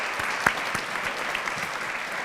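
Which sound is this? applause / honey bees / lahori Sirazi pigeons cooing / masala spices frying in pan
applause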